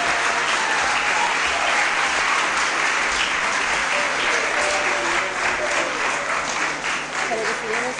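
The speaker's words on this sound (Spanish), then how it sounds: "darle otra vez un aplauso caluroso de los" Students at a school give sustained, warm applause after a motivational talk by Dr. José Maza, steady dense clapping that fills the room from start to finish with a faint voice beneath.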